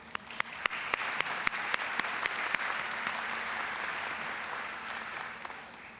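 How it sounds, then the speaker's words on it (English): Graduates and guests at a nursing school pinning ceremony applaud in a hall, the steady clapping rising quickly to a full, even wash and holding, with a few sharp individual claps standing out near the start. "So give yourselves an applause."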